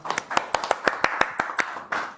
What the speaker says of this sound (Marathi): जोरदार टाळ्या एकदा सापडल्याबद्दल.